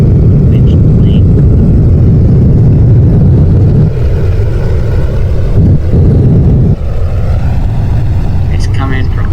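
A plane in the video game Plane Crazy comes in to land, giving a loud, steady engine drone that runs the whole time with slight shifts in pitch.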